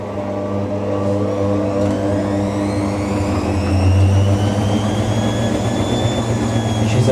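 A Hotpoint WD64 Aquarius Extra washer dryer, loaded with socks on a cotton program, runs through an intermediate spin with a loud, steady rising whir and a low rumbling chug, close by and with no talking.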